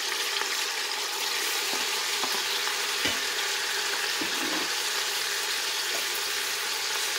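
Raisins fry in a pan with a steady, moderately loud sizzle, broken by a few soft stirring clicks and taps, with no voices.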